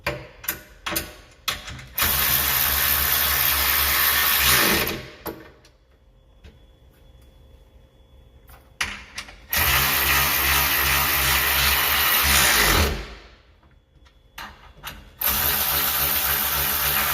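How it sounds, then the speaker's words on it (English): Ratchet wrench with a 13 mm socket tightening the bolts of aftermarket detachable steps on a 2023 Chevy Colorado ZR2, sounding in long, loud, rapid clicking runs separated by pauses, close up with no talk. "I just took my ratchet and put my 13 millimeter on it just to double check."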